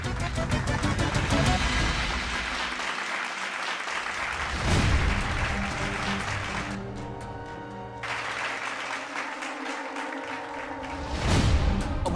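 Loud audience applause in a Hindi TV serial scene, dense clapping mixed with music and voices that fades and swells several times across the clip.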